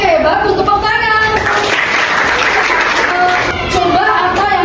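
Classroom applause during a lesson, a steady patter of clapping running the whole few seconds with children's voices calling out over it.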